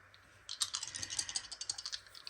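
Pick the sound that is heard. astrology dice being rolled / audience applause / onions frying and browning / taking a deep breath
astrology dice being rolled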